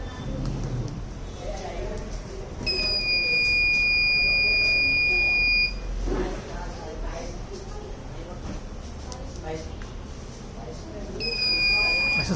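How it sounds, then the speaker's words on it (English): Bank locker security system built with an iButton and LCD display, sounding a steady high electronic buzzer tone for about three seconds after a wrong password, then again briefly near the end, with someone talking throughout. "access denied, and I'll get the buzzer out over here."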